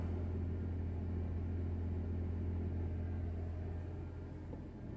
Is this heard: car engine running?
yes